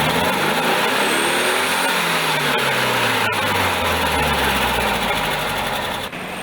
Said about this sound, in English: Kisulani's VW Beetle 1976 model is powered by a 1200 high combustion engine which produces 40 horsepower.